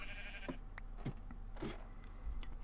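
Sheep bleat in a video game set on a magical sheep farm. Several short, separate calls come over a steady background hum.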